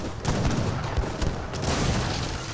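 Falconet cannon fire in Age of Empires 3, a dense battle din of rapid booming shots and gunfire in a town-center assault, continuous and fairly loud.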